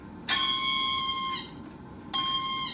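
A ProNox nitrous oxide delivery unit sounds its alarm: two loud, harsh electronic buzzer tones, the first lasting about a second and the second cut off, with quiet room hum between them.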